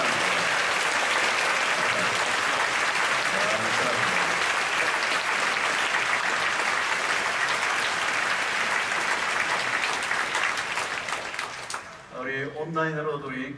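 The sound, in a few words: congregation applause welcoming guests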